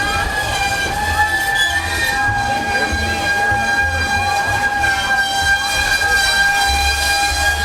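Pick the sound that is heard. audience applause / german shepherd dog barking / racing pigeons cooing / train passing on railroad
train passing on railroad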